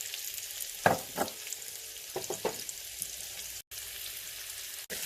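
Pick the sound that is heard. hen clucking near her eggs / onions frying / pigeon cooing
onions frying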